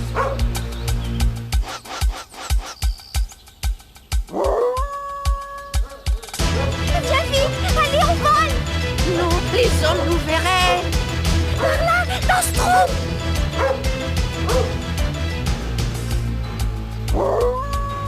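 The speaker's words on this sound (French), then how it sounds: "t'es un brave chien, Brutus, un brave chien." A dog named Brutus barks during a chase through a wooded area in an animated film. The loud barks and yips come in bursts over busy orchestral music and sound effects.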